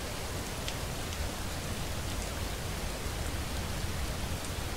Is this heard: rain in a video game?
yes